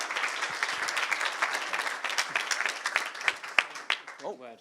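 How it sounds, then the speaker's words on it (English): Applause at a technology competition finals event, dense clapping with sharper individual claps standing out as it thins toward the end, where a voice starts to speak. "One more round of applause."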